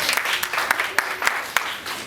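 Youth audience at a Boys and Girls Club event gives a short round of clapping, a busy crackle of hands with several crisp louder claps spaced through it, fairly close and without speech over it.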